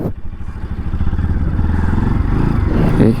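A Bajaj NS200 motorcycle with an upside-down front fork runs close by with a steady low throbbing rumble, mixed with some mechanical clatter.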